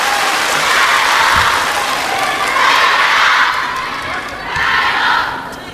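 Spectators at a WTT China Smash table tennis match make a steady, loud crowd murmur with swells of chatter and cheering, filling the arena throughout.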